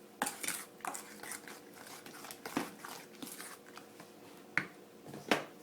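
A spoon stirs cinnamon into a fruit tart filling in a bowl, giving faint scattered clinks and soft scraping, with a few sharper taps near the end.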